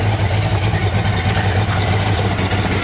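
Supercharged 454 V8 engine idling outdoors at about 20 degrees, a loud, steady, deep rumble close by with no talk.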